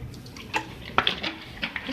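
Chicken marinade with soy sauce stirred in a bowl, a few light clinks and scrapes of a spoon against the bowl, close and quiet.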